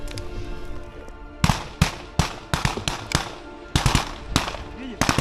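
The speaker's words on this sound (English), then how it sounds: "The Ukrainian forces spot it just in time and open fire." Ukrainian soldiers' rifles firing at an incoming drone from a tree line, loud sharp shots in irregular single and double bursts, close by, with voices faintly in the background.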